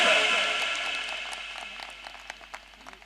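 An audience at a live stage show claps loudly at first, then the applause thins and fades into scattered claps under a background hubbub.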